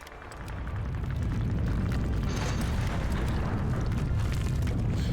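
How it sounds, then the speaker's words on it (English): Deep ground-shaking rumble in the Call of Duty 2 Back2Fronts mod, swelling up within the first half second and then holding as a loud, dense, continuous roar with scattered crackles through to the end. "until suddenly the ground begins shaking."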